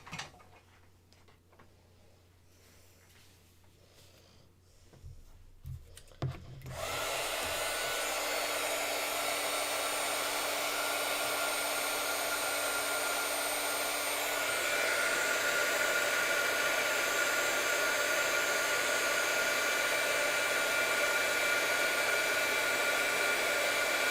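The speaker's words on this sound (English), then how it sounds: "now, get my embossing gun" Embossing heat gun switched on after a few quiet handling clicks, then blowing as a loud steady whooshing hiss that continues without a break to the end.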